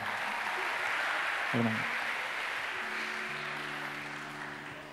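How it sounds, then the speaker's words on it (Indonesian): A crowd claps steadily in a continuous wash of applause, with a few voices and brief tones rising faintly beneath it. "Tepuk tangan buat kalian semua"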